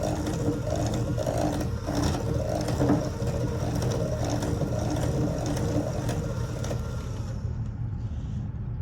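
An electric mixer mixes a batter in a continuous, close, buzzing whir with faint rattling, holding steady throughout before cutting off near the end.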